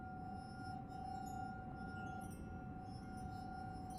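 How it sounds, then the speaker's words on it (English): Faint glassy clinking rings inside a video game, with sustained bell-like tones held over a quiet low background hum, alone and without voices. "Like a clinking."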